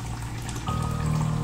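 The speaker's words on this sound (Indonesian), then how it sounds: "terdengar sayup-sayup gemericik air dari kamar mandi yang ada di atas" Water from a bathroom upstairs trickles and pours steadily in a continuous liquid stream that grows somewhat fuller and louder partway through, with no speech.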